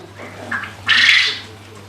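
Quails on a quail farm give a short chirp and then a louder, sharp squawking call close by, with no talking.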